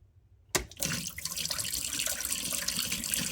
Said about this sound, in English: So there's also a drain here at the bottom, so you can drain that out.